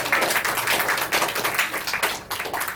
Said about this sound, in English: Give a huge round of applause for Shubham.